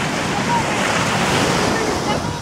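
Ocean surf breaks on a beach in a continuous broadband roar, loud and close, mixed with gusty wind buffeting the microphone throughout.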